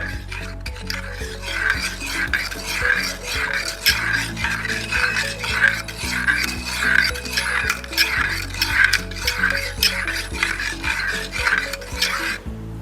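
A spoon stirs two tablespoons of starter into warmed peanut milk for vegan curd. Rhythmic scraping strokes come about twice a second over a low repeating tone.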